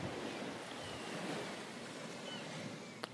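Ocean waves wash steadily onto a beach as a continuous broad roar of surf, moderately faint and unbroken, with no voices over it.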